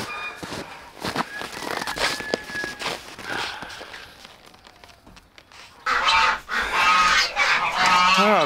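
Loud, overlapping goose honks erupt in a noisy burst near the end, following quieter clucking and scattered farmyard bird calls from roosters and ducks in a shared farm pen.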